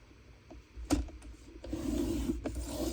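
Paper for a junk journal tip-in is scored with a tool, giving a soft, close scraping rub after a few light taps in a quiet room.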